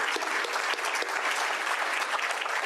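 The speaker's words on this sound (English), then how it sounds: "I think we all owe a big round of applause for our members and volunteers" Dense, steady applause from a room of Rotary club members at a meeting, a full crowd clapping at close range without pause for the whole stretch.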